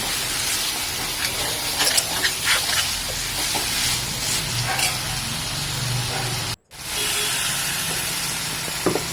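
Water poured into chicken frying in oil for a Tirunelveli-style chicken gravy sets off a loud, spreading sizzle and steam hiss with crackles, then a brief break before the bubbling hiss resumes.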